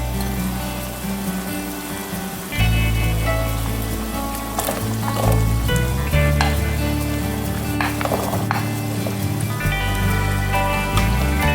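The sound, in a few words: celery stalks frying in hot pan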